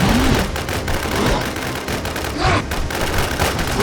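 Heavy, continuous gunfire in the survival shooter game Infestation, a loud, dense barrage of overlapping shots with a few deeper booms mixed in and faint voices underneath.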